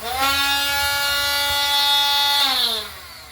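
A budget cordless angle grinder switches on and spins up to a steady, high, buzzing whine that holds evenly for a couple of seconds. It then winds down as the motor is released, loud and close.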